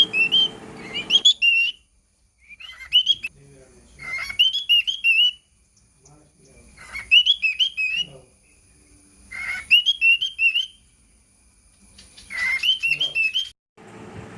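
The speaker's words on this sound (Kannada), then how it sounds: "ಈ ಹಕ್ಕಿಗಳು ನಮ್ಮನ್ನು ಕರೀತದೆ" Bursts of shrill, warbling bird whistles and chirps come in about six bouts separated by short quiet pauses, close and fairly loud.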